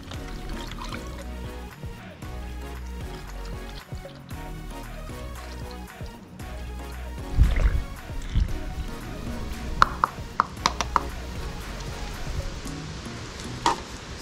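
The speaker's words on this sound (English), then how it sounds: "I don't want to waste my precious Enginize, so I'm going to use a funnel to top it up." Engine Ice coolant pours through a funnel into the radiator of a KTM 300 dirt bike, a soft uneven trickle and glugging with a few light clinks near the end.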